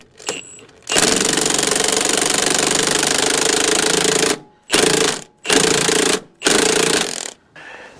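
Impact wrench tightening a sway bar link on a 1996 Ford Mustang: one long loud rattling burst of about three seconds, then three shorter hammering bursts separated by brief pauses, close and with no talking.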